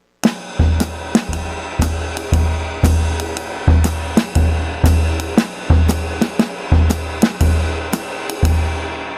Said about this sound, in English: short notes on the snare, long notes on the bass drum